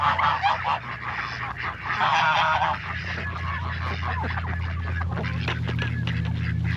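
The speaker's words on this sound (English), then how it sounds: "We've got a mating pair of geese" A flock of geese on a farm honks loudly and repeatedly, with overlapping nasal calls coming in bursts close by over a steady low background hum.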